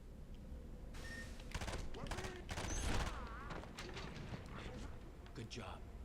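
Gunfire in a stealth shooter video game as an enemy officer is shot down, several muffled bursts spread across the moment under game sounds and a talking voice.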